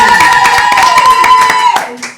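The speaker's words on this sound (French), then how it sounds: "On applaudit bien fort" A studio audience claps briskly under a loud voice and tonal sound, the clapping close and continuous before it fades off.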